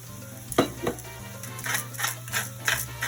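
Onions and vegetables are stirred in a hot pan, a soft frying sizzle under a series of rhythmic scraping strokes, close and moderately loud.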